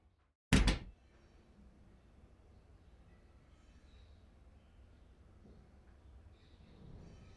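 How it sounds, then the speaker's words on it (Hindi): A door is pulled shut once with a single sharp, fairly loud thud near the start, followed by quiet room tone with faint background movement. "दरवाजा बंद कर दो"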